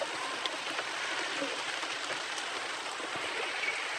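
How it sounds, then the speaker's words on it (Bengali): Sudden rain falling near a pigeon loft, a steady, even hiss of drops striking surfaces, faint and continuous with no voices. "ভিডিও বানাতে বানাতে হঠাৎ করে বৃষ্টি চলে এসছে গাইস, দেখে নিন"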